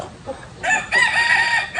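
A rooster crows nearby, one drawn-out crow rising and holding over low background noise, among chickens recovering from illness.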